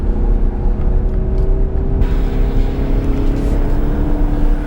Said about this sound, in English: The car is very quiet, very refined.